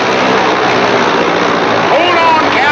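A small airplane's engine runs loud and steady as it prepares for takeoff, with a constant broad roar that fills the scene and voices partly audible over it.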